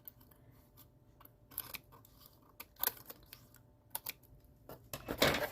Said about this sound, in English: now to do this edge, I'm just going to trim off all the extras